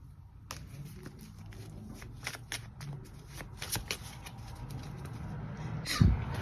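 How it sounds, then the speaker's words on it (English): Cards are shuffled for a tarot-style reading, a close run of quick riffling flutters and taps for several seconds, with no talking. "Let's pull some other cards."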